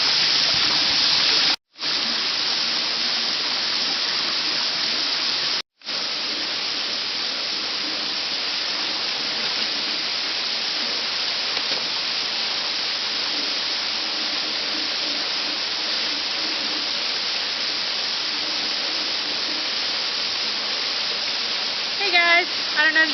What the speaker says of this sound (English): I don't know if you can hear me over the sound of the waterfall that's behind me